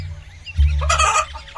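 A hen clucks in a short, loud, close burst of two or three rapid clucks, with no talk around it.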